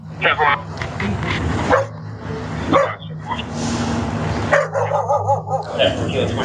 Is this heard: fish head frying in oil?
no